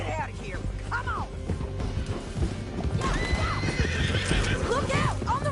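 A horse in the Red Dead Redemption 2 game neighs repeatedly while its hooves clip-clop at a gallop, under a bed of game music and rumble, with people talking over the action.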